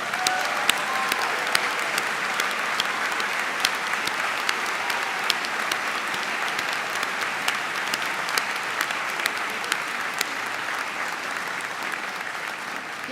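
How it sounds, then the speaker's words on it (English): Audience at a university commencement ceremony applauding, steady sustained clapping from a large crowd with a few sharper individual claps standing out, continuing throughout. "So all alumni, please stand and give yourselves a round of applause."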